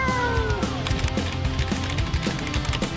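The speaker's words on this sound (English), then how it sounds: "now there's a cat stuck up a tree" A cartoon cat stuck up a tree gives a short meow in an interactive game, a brief high cry over steady background music.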